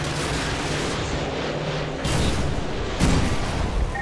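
Gunfire and artillery in the combat game Call of Duty: Modern Warfare 2, a dense continuous rumble of distant shelling with two heavier booming impacts landing about a second apart, no voices.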